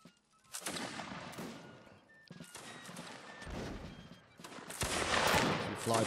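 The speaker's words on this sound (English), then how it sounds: "So you can see now them firing at the enemy." Soldiers of the 33rd Regiment at a Napoleonic reenactment fire musket volleys, making loud, ragged rolling bursts of overlapping shots in several waves, with fainter crackling between them.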